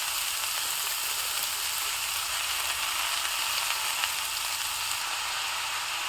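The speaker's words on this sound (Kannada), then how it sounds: "ನಂತರ ನಾನಿಲ್ಲಿ ಚೆನ್ನಾಗಿ ತೊಳೆದು ಹೆಚ್ಚಿಟ್ಕೊಂಡಿರುವಂತಹ ಮೂಲಂಗಿ ಸೊಪ್ಪನ್ನ ಹಾಕ್ತಾ ಇದ್ದೀನಿ" Finely chopped, washed radish leaves frying in a pan for a village-style radish greens dish: a steady, bright hiss of sizzling oil, continuous and even throughout with no talking.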